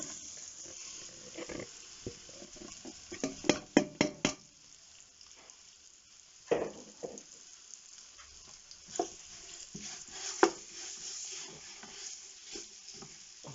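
Beef searing in hot oil in a big pan over full heat, a quiet sizzle broken by sharp crackles and spits that come in clusters, louder spatters rising above a low background.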